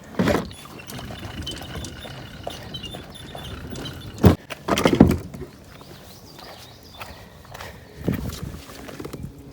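A small fishing boat is wheeled out of a lake on its trailer, giving a steady rattle and scrape with a few loud knocking thumps in the middle and another bump near the end.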